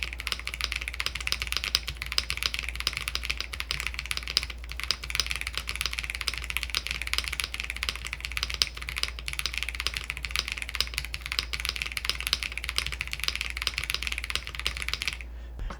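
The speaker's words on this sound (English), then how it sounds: "So these are KTT tactile switches. The tactile actually sounds really good." Fast continuous typing on a Ducky OK-M keyboard fitted with KTT tactile switches, a dense close patter of crisp keystrokes running steadily with no talk.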